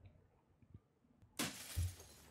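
Window glass smashing in the horror game Fears to Fathom: a sudden loud crash of shattering glass after quiet, followed by a heavy thud and scattering fragments.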